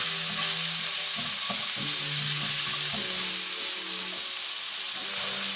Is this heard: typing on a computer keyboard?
no